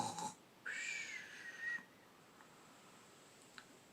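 A person imitates a bear snoring with two breathy, whistling inhalations, the second long and wheezy, then quiet room tone with a faint click.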